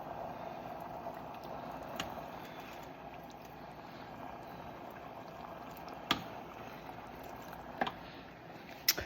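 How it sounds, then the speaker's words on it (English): Chili, a healthy version of the dish, simmering in a pot gives a low, steady bubbling hiss throughout, broken by a few faint pops and clicks near the end. "I'm going to let that simmer"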